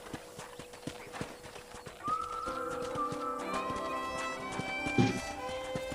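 Horse hooves clip-clopping in the Western video game Red Dead Redemption, a steady rhythmic trot of sharp hoof strikes with a whinny and tonal background music rising midway, moderately close.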